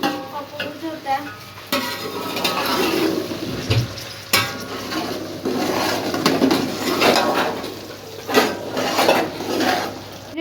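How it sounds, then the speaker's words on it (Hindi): Spices being mixed in a cooking pot for lasoora (gumberry) pickle, with repeated scraping and clinking of a spoon against the metal pot over a steady sizzle of frying, close and busy throughout. "ये अच्छे से मिक्स करना है"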